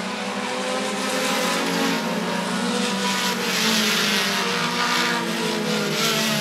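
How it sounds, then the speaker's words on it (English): Short tracker race cars in a heat race at Rockford Speedway, a Midwestern short oval, roar past in a dense, continuous wall of engine noise that swells and fades slightly, loud and close with no talk. "Checkered flag in the air. Good heat race win for Kyle Voss."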